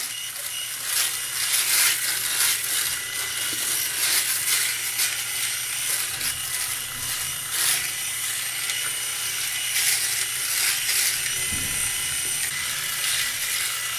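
A Philips S1332 Series 1000 cordless dry electric shaver runs close up with a steady, gritty mechanical buzz. It drones on without a break, changing only slightly in texture as it moves over a face.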